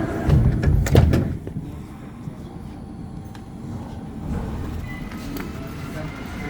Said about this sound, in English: Red means doors are closing.